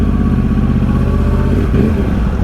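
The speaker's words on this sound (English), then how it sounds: "I am back to riding the bike in standard mode" A motorcycle ridden in standard mode on Michelin Pilot Road 4 tyres, its engine droning at a steady loud pitch with a low pulsing rumble and a slight shift near the end.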